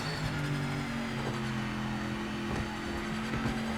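A race car engine in a racing video game at Spa-Francorchamps, accelerating out of a corner: a steady, close engine drone holding a sustained pitch with slight rises, heard alone without talk.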